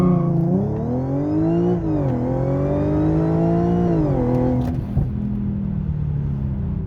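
A tuned Audi S4 3.0 TFSI making 542 horsepower accelerates hard from 0 to 100 km/h, its engine loud and close, climbing through gears with brief dips at each shift.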